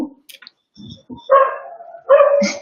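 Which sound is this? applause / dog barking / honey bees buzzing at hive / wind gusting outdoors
dog barking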